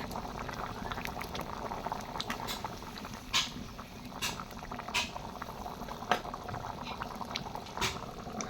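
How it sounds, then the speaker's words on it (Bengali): Thin country-chicken curry broth boils in a pot, a soft bubbling and popping with irregular louder bursts throughout, fairly faint and without talk. "এই যে ছোলে পানি দেওয়ার পর বলক উঠে গেছে,"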